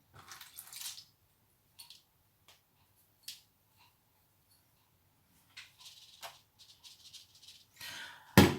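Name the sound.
draining tea-soaked pepper seeds, water pouring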